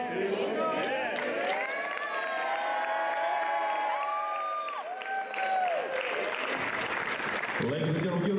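Loud crowd applause and cheering at a high school athlete's college signing ceremony, with whoops, shouts and excited voices throughout, sustained and close for the whole stretch.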